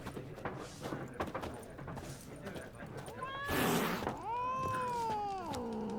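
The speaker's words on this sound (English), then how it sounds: "I was going to go pet the cat, but I don't think it likes me very much" In The Witcher 3, a cat meows a few drawn-out, wavering times over soft background game ambience and scattered footsteps.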